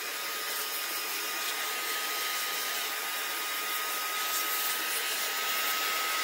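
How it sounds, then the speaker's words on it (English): A can of compressed air blows dust out of a laptop in a continuous, even hiss lasting several seconds, close and fairly quiet. "I'm gonna take my air duster and just dust this out a little bit."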